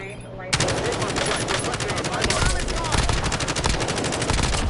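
Rapid automatic gunfire from a shooter video game rattles in dense, continuous bursts after a brief quiet opening, loud and close.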